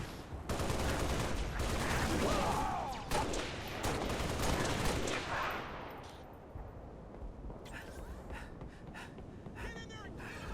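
Rapid gunfire in the video game Halo Reach, with dense, sustained automatic shooting for about five seconds that then tapers into quieter scattered shots and battle noise, along with shouted voices.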